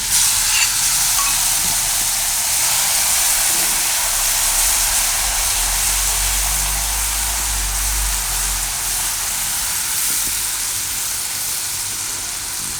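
Chutney is tipped into hot oil seasoned with asafoetida over a very low flame, setting off a loud, steady sizzle that hisses evenly from start to finish with no voices.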